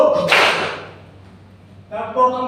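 A classroom of students brings their hands together in one sharp, loud clap during a counting clap game, followed by a short pause and then a voice speaking.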